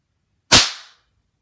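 A single sharp crack from a homemade percussion cap going off, loud and close, with a short fading tail and silence on both sides.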